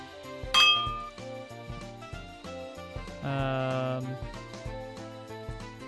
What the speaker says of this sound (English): Looking for metallic clinking sounds.